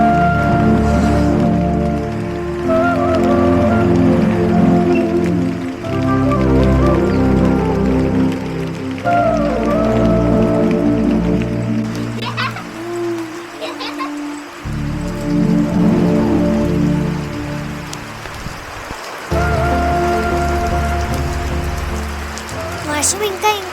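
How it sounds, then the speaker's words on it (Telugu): Heavy village rain pours steadily onto flowering plants and leaves, a dense, loud, continuous hiss and patter that holds throughout with only brief dips. "వర్షం ఇంకా ఇంకా పెద్దగా అయిపోతుంది. నేను దాదాపు తడిసిపోయాను."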